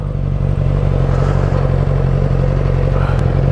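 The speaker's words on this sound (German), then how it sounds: "Ich muss unbedingt von meinem Motorrad mal absteigen." Motorcycle engine idling steadily after a long ride around a roundabout, a loud continuous low rumble with even throb throughout, close by, no talking.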